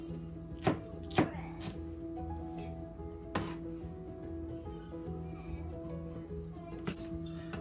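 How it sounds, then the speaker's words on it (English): A knife chops parsley on a board in a home kitchen, a few sharp, separate thwacks spaced irregularly over a steady low background hum. "We chop some parsley."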